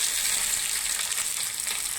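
Curry leaves and two dried red chillies fry in hot oil for a dal tempering, giving a bright, steady, close sizzle that continues unbroken with no talk.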